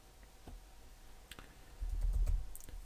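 Computer keyboard typing while writing code, a few scattered key taps followed by a denser burst of keystrokes, close and fairly quiet with no talking.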